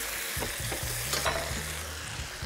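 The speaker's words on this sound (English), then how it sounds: "I'm gonna baste our steaks with all that beautiful butter and infused flavors" Steaks basted with butter and aromatics sizzle steadily in a hot pan, a continuous close fry with a few soft spoon or pan clinks and no talk.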